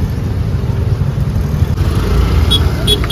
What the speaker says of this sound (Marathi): मंडळी हा रस्ता इकडे आणि गाड्या बघा